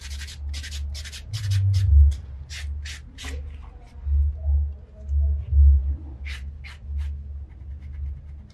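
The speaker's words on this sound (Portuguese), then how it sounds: "Agora o bloco, ele dá o polimento." A buffing block rubs back and forth over fingernails in a manicure, polishing away file marks with a steady, close scratching rhythm that swells and fades in repeated strokes.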